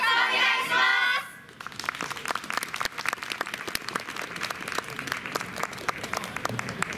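An audience applauds at a Japanese team dance performance, dense sustained clapping following a brief tonal sound at the start.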